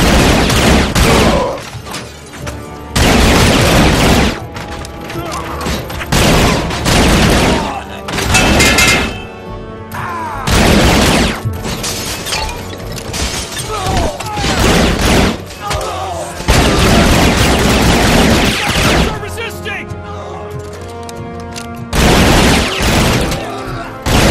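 Video game gunfire in Robocop Rogue City: long loud bursts of automatic shots with thuds and impacts, broken by brief pauses, with occasional shouted voices in the mix.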